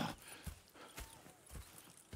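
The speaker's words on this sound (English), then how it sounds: "Go check the horses are ready." Horse hooves clip-clop in a steady, evenly spaced rhythm in Red Dead Redemption 2, fairly quiet and alone with no talking.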